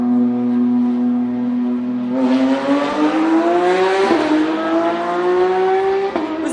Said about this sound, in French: Elles font des bruits bizarres les voitures.